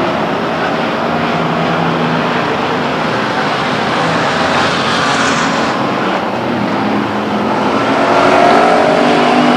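Pure stock race cars roar around a speedway oval on the final lap of a heat race, a loud, continuous engine drone with a mix of passing cars and a slight swell toward the end.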